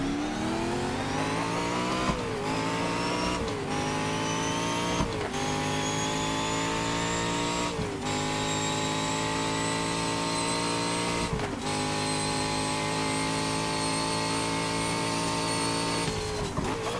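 Toyota GT1 race car engines in the GTR2 racing game roar steadily at high revs, with rising pitch through each gear and sharp dips at shifts every couple of seconds, loud and continuous with no talk.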